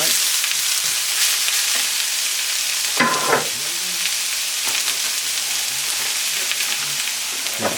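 Chopped yellow onions fry in a pan for vegan Jamaican patties, giving a loud, continuous crackling sizzle with a burst of stirring scrapes midway and occasional utensil movement.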